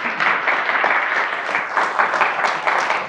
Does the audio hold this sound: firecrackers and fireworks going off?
no